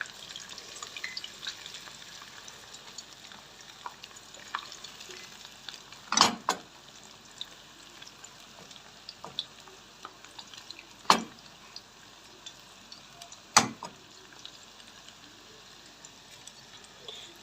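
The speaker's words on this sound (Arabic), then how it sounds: "البصل بصوا حاولوا تخرطوه كده وانتوا بتحطوه في الزيت" Sliced onions frying in oil for Egyptian koshari give a soft, steady sizzle with scattered light pops and a few sharp clicks, heard close but fairly quiet and with no talking.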